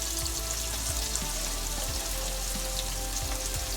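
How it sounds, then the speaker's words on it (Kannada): Onion, garlic and dried chillies frying in a pan with oil, a steady close crackling sizzle with scattered pops and light stirring, no voices. "ಚೆನ್ನಾಗಿ ಫ್ರೈ ಮಾಡ್ಕೊಳ್ಳೋಣ."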